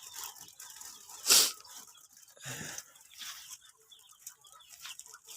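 Chickens let out of their coop at feeding time cluck and squawk, with one loud, sharp squawk early on followed by scattered softer clucks and farmyard rustling nearby.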